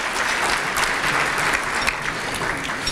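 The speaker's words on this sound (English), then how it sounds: "let's give Ford Motor Company a big round of applause, please" Steady, full applause from a crowd at an annual dinner, dense and even clapping sustained throughout.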